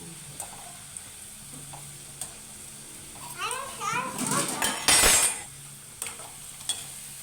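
French fries drop into hot oil in a home kitchen, giving a brief loud sizzling burst amid light clinks, while voices, including a child's, talk in the background.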